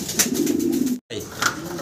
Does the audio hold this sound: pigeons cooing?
yes